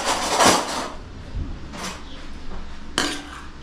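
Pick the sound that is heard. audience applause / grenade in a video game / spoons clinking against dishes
spoons clinking against dishes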